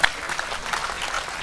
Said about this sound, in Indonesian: Tepuk tangan semua teman sekalian untuk Mas Sigit ya.